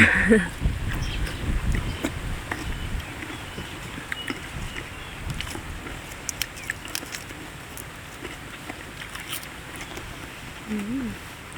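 Outdoor wind gusts rumble against the microphone, steady and fairly strong, with someone talking and occasional handling noise.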